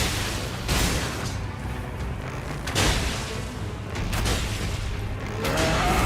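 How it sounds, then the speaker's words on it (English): Fireworks go off outside a window, a string of muffled booms and crackling bursts roughly every second, heard from indoors against a steady roar of noise. "There are fireworks going off outside my window right now, chat."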